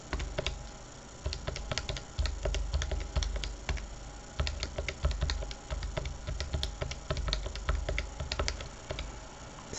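Keys pressed on a graphing calculator to enter data for a sine regression, a quick irregular run of small clicks and taps, close and fairly quiet, with no talking.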